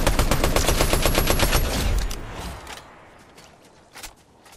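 An assault rifle in a video game fires a rapid, continuous burst of loud automatic shots for about two seconds, then falls silent, with only faint clicks and a single muffled thud afterward.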